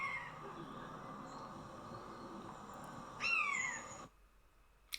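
A Eurasian jay mimics a hawk with one brief, loud descending screech. It rises out of a steady, noisy background, and the sound then cuts to near silence.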